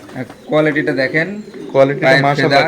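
A pair of black Lahori pigeons coo close by in two bursts of throaty, bubbling, rolling calls, loud and near.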